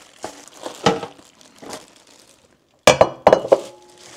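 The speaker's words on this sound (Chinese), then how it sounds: "把肉移到一个大容器里边" Ten pounds of cut pork for homemade cured sausage and bacon is shifted into a large container, giving scattered crinkles followed by a sharp cluster of close clinks and clatters.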